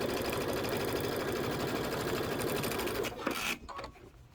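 A sewing machine stitches in a fast, steady mechanical chatter close by while quilt blocks are sewn together, then stops abruptly near the end.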